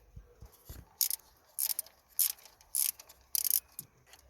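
A ratchet loosens the bolts on a Ford S-Max thermostat housing, with sharp metallic clicking in about six quick bursts at a steady rhythm, close and fairly quiet, preceded by a few low knocks.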